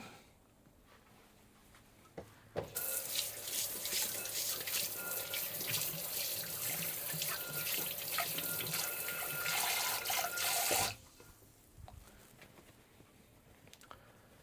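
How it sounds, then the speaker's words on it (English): A kitchen tap runs for about eight seconds while a pan is rinsed off during focaccia making, a loud steady splashing stream that starts and stops abruptly against a quiet room. "I'm going to wash this off real quick."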